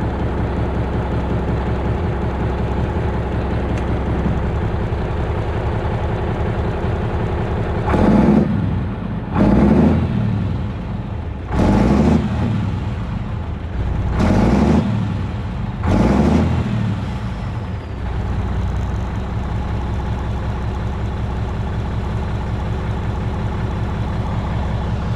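A high-mileage Cummins diesel engine in a box truck idles with a steady, heavy rumble, then is revved in about five short, loud bursts, before settling back to idle close by.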